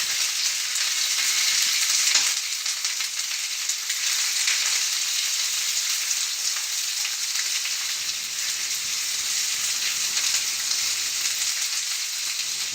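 Onions sautéing in a hot kitchen pan give a steady, dense sizzle that holds evenly from start to finish, close and fairly loud, with no voices.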